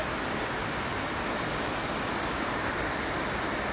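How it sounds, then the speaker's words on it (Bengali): Heavy rain pouring down at night during a storm, a steady dense hiss of broadband noise that stays constant throughout, close and fairly loud, with no voices. "জোর বৃষ্টি হচ্ছে"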